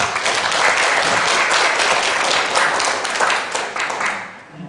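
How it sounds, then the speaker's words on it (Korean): A loud, full burst of audience applause at an international peace forum greets the next presenter, with dense, even clapping from a large crowd that holds steady before tapering slightly at the end. "여러분 힘찬 박수 부탁드립니다."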